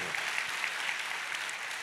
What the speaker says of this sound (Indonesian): Ayo tepuk tangannya sekali lagi yang paling meriah buat Tuhan